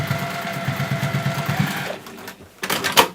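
Sewing machine stitching a seam, a steady rhythmic whirring chatter that runs for about two seconds and then stops, followed by a few faint handling sounds close by.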